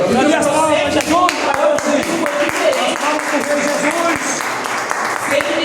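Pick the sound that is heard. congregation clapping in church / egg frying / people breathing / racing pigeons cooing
congregation clapping in church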